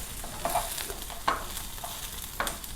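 Spice tempering sizzles steadily in a pan with onion added, and periodic scraping strokes from stirring cut through the frying noise.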